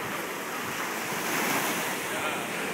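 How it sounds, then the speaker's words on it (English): Ocean surf breaking on a Florida beach, a steady loud wash of waves with wind buffeting the microphone throughout. "You run away from the waves."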